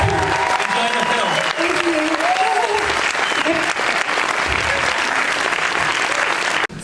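Loud, dense applause fills a cinema hall at a Berlinale screening Q&A, welcoming director Dee Smith of "Kokomo City" to the stage, with voices and cheers mixed into the sustained clapping until it cuts off at the end.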